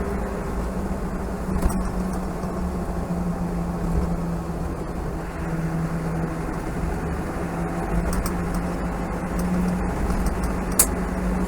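A Toyota Yaris drives along a bumpy road with a steady, full rumble of engine and road noise inside the cabin, broken now and then by soft knocks from the bumps.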